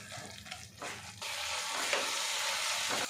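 Spiced masala frying in a pan while being mashed, with close, continuous sizzling and scraping that grows denser and louder partway through.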